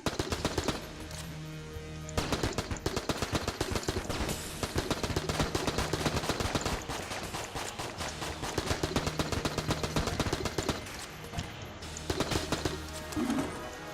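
Dense rapid gunfire from a boss fight in the video game Enter the Gungeon, continuous bursts of shots with game effects layered on top, loud and unbroken for most of the stretch.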